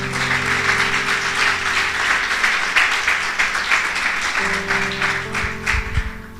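A church congregation applauds in a sustained burst of clapping for several seconds, with steady organ or keyboard tones held underneath and a low thump near the end.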